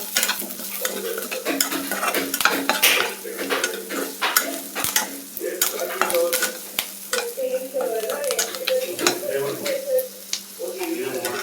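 Spoon scraping and stirring through a pan of frying ingredients for avarekalu (field bean) sambar, with steady sizzling and repeated close scraping strokes, and a voice speaking briefly under the cooking noise.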